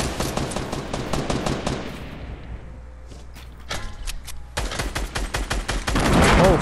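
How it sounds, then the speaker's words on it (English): Rapid bursts of automatic gunfire mixed with heavier blasts in a Fortnite Battle Royale firefight, loud and dense at first, thinning to a lull, then resuming with sharp close shots and a booming explosion at the end. "they're shooting launchers at us and everything?"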